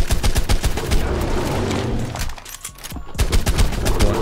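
Rapid machine gun fire hammers in dense, loud bursts in Ark Survival Evolved Mobile, a near-continuous stream of shots with a brief pause midway before the rattling resumes.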